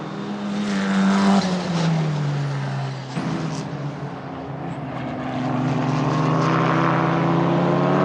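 Formula 4 race cars at speed on the Mugello circuit in Italy, engines droning loud and close with a pitch shift as a car passes near three seconds, then a steady racing roar continuing to the end.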